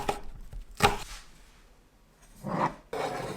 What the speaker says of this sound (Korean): 녹색 고추입니다. 또한 다른 재료와 비슷한 크기로 썰어줍니다.